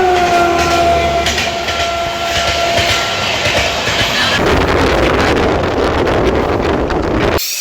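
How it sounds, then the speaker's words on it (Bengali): A train pulls into Pakuria Murai station on the Kolkata to Digha line on a rainy day, heard as a loud, steady rolling rumble with gusty wind noise and a few thin squealing tones early on, the roar thickening after a few seconds. "নারায়ণ পাকুড়িয়া মুরাই স্টেশনে এখন এসে পৌঁছালো ট্রেন।"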